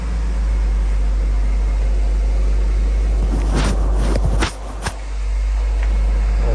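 A Ford Ranger pickup, a $350 project truck just brought back to life, idles and runs steadily while backing up, a continuous low engine drone with a few sharper mechanical knocks and a brief dip partway through.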